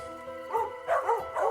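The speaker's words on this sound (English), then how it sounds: "it was interrupted by the dogs barking outside" Dogs bark outside in a quick series of loud, close barks that come in three bunched bursts, with no voices over them.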